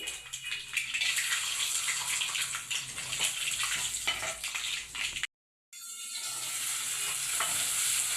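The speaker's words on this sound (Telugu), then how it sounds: "కొన్ని ఆవాలు అయితే వేసుకుంటున్నాను. తర్వాత జీడిపప్పు అండి," Mustard seeds and cashews frying in hot oil for tomato bath, a loud close steady sizzle with spatter, broken by a short silent gap before the sizzling resumes.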